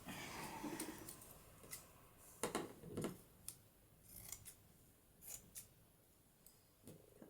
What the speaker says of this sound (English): Now I need some scissors.